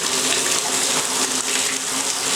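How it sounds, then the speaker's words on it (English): Steady rush of water flowing from a Moen kitchen faucet after the supply is turned back on, a continuous broadband hiss that stays even and close throughout. "Okay, I just turned the water back on."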